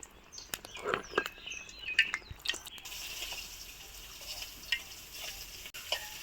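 Battered eggplant slices (beguni) fry in hot oil, with a few quiet sputters and pops at first, then a soft, steady sizzle underneath, faint and close with no one speaking.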